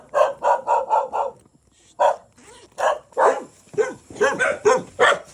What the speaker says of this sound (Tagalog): Dami yung aso.